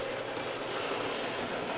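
A continuous, fairly quiet rumbling hum of a small N scale Kato model train engine running along the track, steady without pauses.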